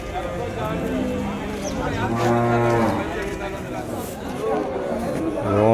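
Native cattle at the Vaniyambadi cattle market, with several loud, drawn-out moos close by amid a busy crowd murmur and people talking nearby.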